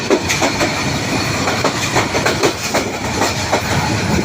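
The Hazara Express runs along the rails near a station, its wheels beating a steady, rhythmic clickety-clack over the track joints under a constant rolling rumble, close and loud.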